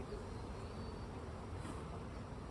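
A steady, dense buzz of many honey bees during transfer from a five-frame nuc box, quiet and continuous without breaks.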